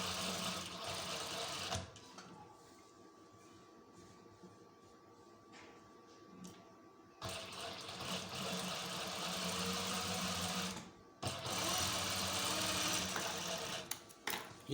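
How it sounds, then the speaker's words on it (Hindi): A sewing machine stitches the neckline of a shirt in a tailoring workshop, running in steady whirring bursts with a quieter pause between, close and continuous, with no speech. "अब गले के ऊपर भी एक बूट के फासले पर सिलाई लगा देते हैं"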